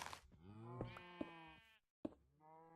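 Minecraft cows moo: one long, drawn-out, wavering low moo, then a brief pause and a second moo starting, fairly close and alone with no talking.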